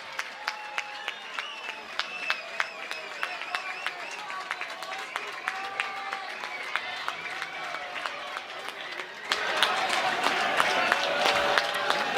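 A college baseball crowd at a Stanford versus Cal game cheers and murmurs beneath a commentator's talk, swelling noticeably louder toward the end with a busy roar of voices and claps.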